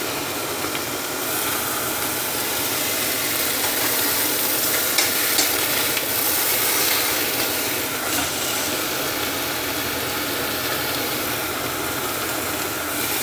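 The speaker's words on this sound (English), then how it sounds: "So what I'm trying to achieve is to sear" Steaks searing in a hot pan, a loud continuous broadband sizzle with steady hiss throughout and no talk.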